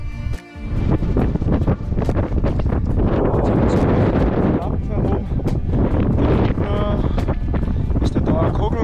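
Heavy wind buffeting a microphone in loud, rumbling gusts on a mountain summit in the Tennengebirge, nearly drowning everything else, with a person talking underneath.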